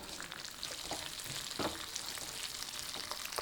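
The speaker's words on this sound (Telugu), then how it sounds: "పచ్చిమిరపకాయలు వేసుకోవాలి, తర్వాత ధనియాలు, నువ్వులు వేసుకోవాలి. కొంచెం వేగనివ్వాలి." Green chillies, coriander seeds and sesame seeds fry in hot oil for a Telugu goru chikkudu pachadi, giving a steady close crackling sizzle with a brief louder spatter midway, no voices.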